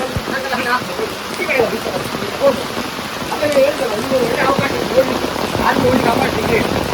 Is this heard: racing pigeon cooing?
no